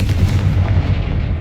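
Confringo explosive spell blast in the video game Hogwarts Legacy, a heavy, booming, low rumbling burst that stays loud and dense for its whole short length with no voices.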